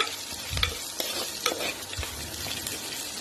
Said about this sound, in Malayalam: ഉള്ളി നന്നായി ഇളക്കി കൊടുക്കാം